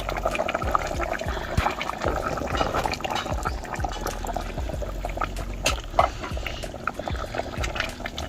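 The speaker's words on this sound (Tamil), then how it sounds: "நம்ம அடுத்து வந்து தேங்காய் பால் ஊற்றப்போம்" Coconut milk poured into a simmering pot of mutton curry with potatoes, a steady liquid pour and bubbling running continuously at close range, with scattered clinks and splashes throughout.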